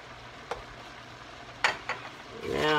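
Cabbage soup ingredients with kale being stirred in a pot: a steady low sizzle with a few sharp scrapes of the spoon, ending in a louder rustling swirl as the mix is turned.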